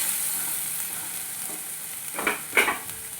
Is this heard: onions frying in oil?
yes